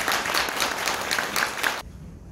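Audience applause at a Korean book launch for a biography of Father Ham Se-ung, a dense wash of clapping from a crowd filling the room for about two seconds, then cutting off abruptly to near quiet.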